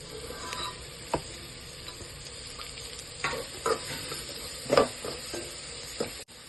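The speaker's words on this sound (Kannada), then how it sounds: "ಈಗ ಹಸಿಮೆಣಸಿನ್ಕಾಯಿ ಹಾಕ್ಕೊಳ್ಳಿ." Green chillies sizzle in hot oil for dal fry, a soft steady frying hiss under scattered stirring clicks and taps of a spoon against the pan, close and fairly quiet, with no talk.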